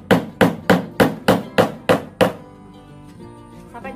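A hammer strikes in eight quick, evenly spaced blows while making a homemade orchid hanger, each hit sharp and close, followed by a faint ringing and a light clatter once the hammering stops.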